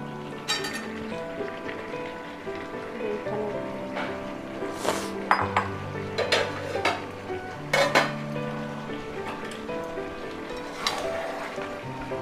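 Potatoes tipped into a pot of simmering chicken curry (kosha mangsho), with a steady run of metal pot clatter, spoon clinks and stirring scrapes at close range, and a few sharper knocks scattered through, no talking.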